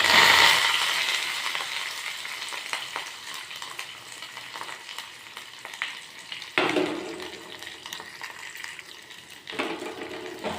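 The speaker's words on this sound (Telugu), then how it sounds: "ఇప్పుడు ఆనియన్స్, పచ్చిమిర్చి, కరివేపాకు, తాలింపు గింజలు వేసి వేపుకోవాలి." Onions, green chillies, curry leaves and tempering seeds frying in oil, a dense crackling sizzle with spoon stirring and scraping against the pan, loud at first and then steady, with no voices.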